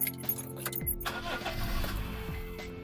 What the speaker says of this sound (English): I'm going to start the car and show you what's going on here.